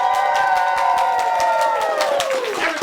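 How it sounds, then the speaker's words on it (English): A theater audience applauds and cheers together, a dense, loud, sustained wash of clapping and raised voices that holds steady for about three seconds before easing slightly. "give us a round of applause"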